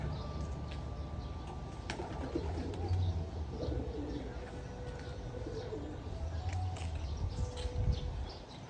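Pigeons coo at a garden and farm resort, soft low repeated cooing under a steady outdoor background with faint chirps and a distant voice, fairly quiet and moderately near.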